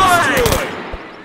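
Gunfire from the multiplayer video game Dude Theft Wars, a loud close burst of rapid shots that rings out and fades quickly, with faint voice beneath.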